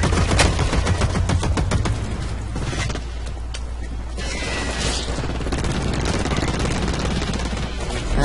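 Rapid machine gun fire from a light machine gun in the online shooter Blacklight Retribution, dense and continuous bursts filling the whole stretch with crashes and impacts, loud and close.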